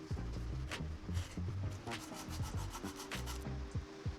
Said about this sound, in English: sanding everything clean and cleaning out the burn marks with the card scraper